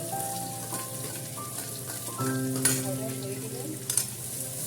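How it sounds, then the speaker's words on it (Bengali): Chopped onions fry in a pan for fish cutlets, with a continuous soft sizzle and occasional stirring clatter. Faint steady tones sit beneath, and a couple of sharper knocks stand out near the middle and end. "পেঁয়াজটা ভালো করে আমি ভেজে নেব।"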